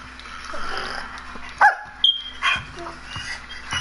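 A dog barks and yips a few times in short, sharp bursts close by, with a voice speaking quietly in the room.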